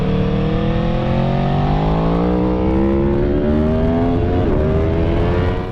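Aprilia V4 motorcycle roaring through its exhaust under hard acceleration, a loud, continuous, raspy engine note that rises steadily in pitch as the revs climb, heard close and alone without talk.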